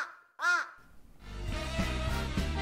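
A recorded crow gives a single loud caw, followed by steady background noise with a faint low hum.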